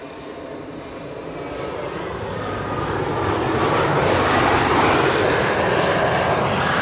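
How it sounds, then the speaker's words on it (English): A KLM Embraer 175 jet airliner passes by the Kaagbaan runway at Schiphol, its broad engine roar swelling steadily louder as it nears, with no talk over it. "And that's the Embraer 175 that you're hearing pass by right now."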